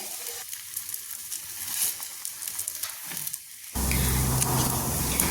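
Banana and egg roti frying in a pan, a steady hiss of oil that jumps abruptly louder and denser partway through as the roti is turned, sizzling continuously and close.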